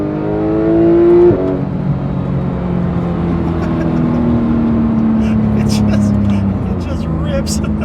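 A Porsche 911 GT3 engine revs loud and close from inside the car on the move, then settles into a steady high drone as it drives on, with faint voices in the background.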